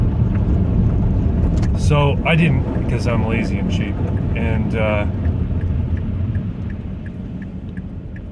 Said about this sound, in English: I'm driving without winter tires in probably 3 inches of crunchy, wet garbage